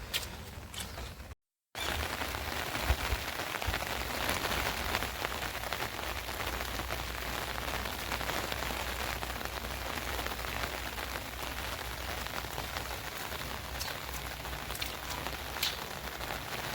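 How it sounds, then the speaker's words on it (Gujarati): Steady, dense rainfall at a village temple, a continuous close hiss of drops on surfaces that holds at an even level throughout, with only a brief gap near the start and no talking. "વરસાદ ચાલુ થઈ ગયો છે"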